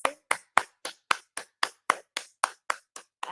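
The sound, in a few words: applause for yoga session instructor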